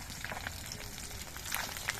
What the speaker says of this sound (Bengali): এই জন্য মাছগুলো কিন্তু একটু কড়া করে ভেজে নিচ্ছি